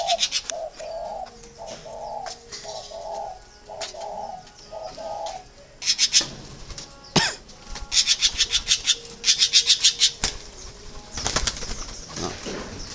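Caged spotted doves coo in a rhythmic series of low, soft calls, followed by louder scuffling, wing flaps and sharp bursts from the birds nearby.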